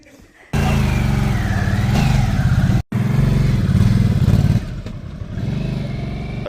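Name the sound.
Harley-Davidson Sportster S 1250 motorcycle riding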